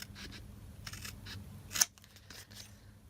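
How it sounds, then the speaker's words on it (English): Scissors snip away the sides of a piece of cardstock during journal crafting, a few soft close cuts followed by one sharp crisp snap, then quieter trimming with no talk. "but I want to cut those sides away."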